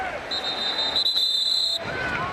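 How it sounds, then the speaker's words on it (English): A referee's whistle stops play in a college football game between Wake Forest and North Carolina, one sustained shrill blast of about a second and a half over crowd noise in a stadium. "Whistle stopped the play after he picked up 3."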